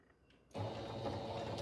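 Sewing machine stitching a patchwork fabric placemat, starting abruptly after a quiet moment and running as a steady, close, even mechanical hum for about a second, with no voices.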